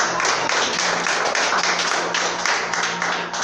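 A church congregation claps together in praise, a dense, steady wash of many hands that stays loud and continuous throughout, with no clear breaks.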